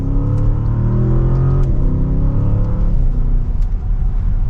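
A 2024 Audi S8 accelerates hard in second gear in dynamic mode, its loud engine drone climbing steadily, briefly dipping, then pulling on, heard close from inside the car without talk.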